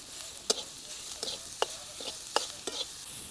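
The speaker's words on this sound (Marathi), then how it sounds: "आपण याच्यामध्ये आता टोमॅटो चिरून घेतलेला टाकू." Chopped tomato and salt go into a pan of sizzling onion and spices for umbar (wild fig) bhaji, heard as a soft steady hiss with several sharp spoon-scrape clicks against the pan, close and without talk.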